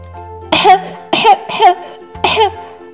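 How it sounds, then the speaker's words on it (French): Several harsh coughs in short bursts, close by, with brief pauses between them; the last two come as a quick pair. "j'entends que tu tousses"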